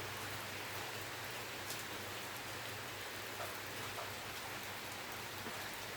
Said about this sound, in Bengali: অনেক জোর এই বৃষ্টি নামছে রে